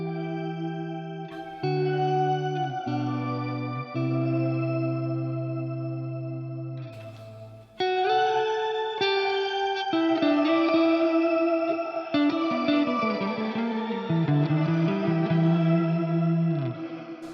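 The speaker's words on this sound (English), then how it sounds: "our penultimate one is shimmer, and that sounds something like this" Guitar chords ringing into a shimmering reverb from a Boss RV-6 pedal's shimmer mode, with bright octave-up layers blooming above each strum and long synth-like tails, played alone.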